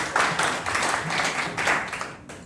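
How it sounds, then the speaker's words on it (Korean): Audience clapping at a judicial reform talk, a short, dense burst of applause that swells in a few waves over about two seconds, then drops off abruptly. "강릉 교육관님께 박수 한번 부탁드립니다."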